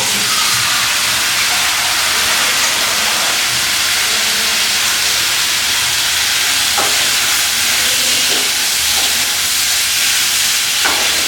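Hot liquid gravy going into a pan of spiced papad curry, a loud, steady hiss and sizzle of steam filling the whole stretch, with a few faint stirring knocks near the end and no talk.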